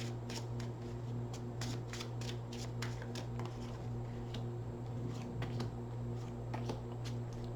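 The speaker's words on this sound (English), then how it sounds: "2 more shuffles off the top of the deck." A deck of tarot cards being shuffled close by, with quiet, repeated crisp riffling bursts in an irregular rhythm over a low steady hum and no speech.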